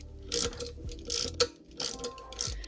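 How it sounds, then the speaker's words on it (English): A socket ratchet works an E10 bolt loose from a bracket on the rear suspension of a Mercedes E-Class W212 with AIRMATIC, clicking in quick close bursts of pawl ticks between short pauses. "we're going to remove this bracket right here, which has an E10 bolt holding it in"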